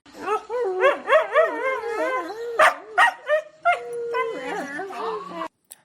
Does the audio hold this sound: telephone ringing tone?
no